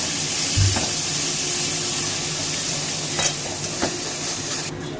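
Spices with a spoonful of sugar stir-fried in oil in a pan before soya chunks go in, a loud continuous sizzle with a few scraping stirs, close and with no talk.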